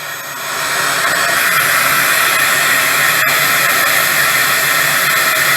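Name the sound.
Holife cordless vacuum cleaner running on high mode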